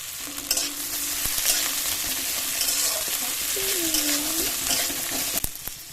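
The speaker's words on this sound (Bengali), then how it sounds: "কিছুটা পেঁয়াজ একটু হালকা লাল করে ভেজে নিয়ে তুলে নেব" Chopped onions fry in hot oil with a steady, close crackling sizzle, broken by a few scraping stirs and light clinks.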